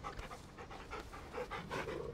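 A dog in the Final Fantasy XVI video game pants steadily, a rhythmic run of close, fairly loud breathy puffs with no talk over it.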